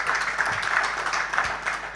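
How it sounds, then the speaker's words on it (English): A crowd claps steadily in a dense, continuous patter of applause, moderately loud and without talk. "I believe Honorable Roland Roy deserves a better round of applause than that, right?"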